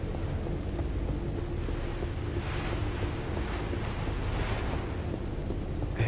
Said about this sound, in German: Hier ist halt nur eine Windrausche.